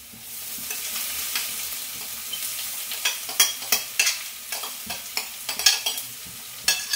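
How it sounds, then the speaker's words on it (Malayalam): Ground spice paste with raw turmeric added to well-browned fried onions in a pan, giving a steady sizzle broken by repeated sharp scraping stirs from a spoon, close and fairly loud with no talk. "ഉള്ളിയൊക്കെ ഇവിടെ മൂത്ത് സെറ്റായി വന്നിട്ടുണ്ട്. അപ്പോഴത്തേക്കും ഞാൻ എൻ്റെ ഈ അരപ്പം കൂട്ടിട്ട് കൊടുക്കാൻ പോവാണേ"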